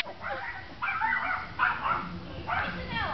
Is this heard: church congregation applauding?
no